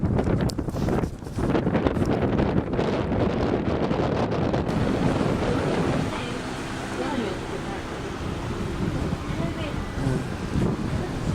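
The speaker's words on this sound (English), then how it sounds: "The kite boarders come here because this is always windy like" Strong steady wind buffets the microphone at a kite boarding spot on open water, a loud broadband rush with gusty swells that runs throughout, with a voice heard faintly under it.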